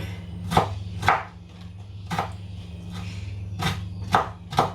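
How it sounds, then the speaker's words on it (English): A knife chops Scotch bonnet pepper on a board with about seven distinct, close thuds at an uneven, unhurried pace over a low steady hum. "with the Scotch bonnet, I'm going to cut out very, very small"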